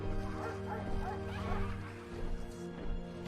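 A dog barks and yips repeatedly at a distance, with some whimpering mixed in, in a steady, moderately loud stretch.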